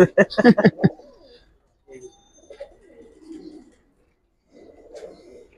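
Giribaz pigeons, a high-flying breed, coo in a short series of low, throaty calls at close range, followed by quieter scattered murmurs and soft rustling.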